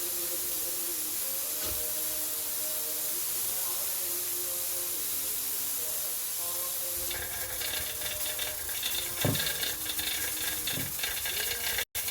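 Steam hisses from a couscous steamer pot set over bubbling oil and water, a steady broadband hiss that grows denser and louder partway through, with faint clinks and background voices.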